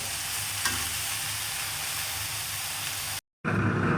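Leafy greens frying in a pan give off a steady, dense hiss of close sizzling, briefly cut to silence before resuming.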